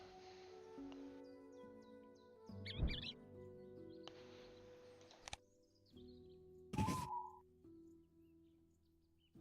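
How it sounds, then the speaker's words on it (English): The game Wingspan plays a scissor-tailed flycatcher call as a few quick, high chirps and a brief squeaky trill, set among soft electronic tones and pauses. "Scissor-tailed flycatcher."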